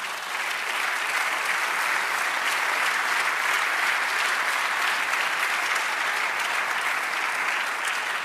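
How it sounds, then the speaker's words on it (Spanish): A church congregation claps steadily throughout, a dense sustained wash of applause from many hands with no voices standing out. "Aleluya, dale otro aplauso."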